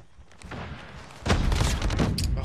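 Bursts of automatic gunfire in COD Mobile ranked play from a PDW build, quieter shots early then a loud sustained volley from about halfway, up close.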